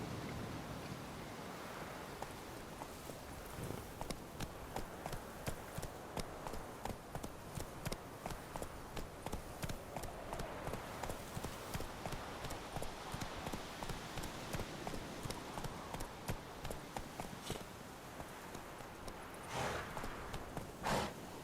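The horse Roach gallops through The Witcher 3 with a steady, fast clip-clop of hooves that runs almost the whole time over a broad wash of background noise.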